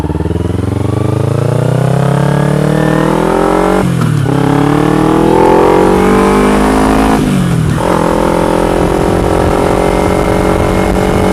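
Motorcycle ridden on a road, engine loud and close throughout, rising through gears with two brief dips at shifts around four and seven seconds before pulling again.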